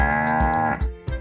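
Cows lowing inside a barn, a long drawn-out moo with rich harmonics followed by two shorter calls, close and loud with no other sounds.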